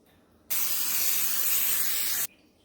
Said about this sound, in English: Now you're going to spray the pan so it doesn't stick to the bottom.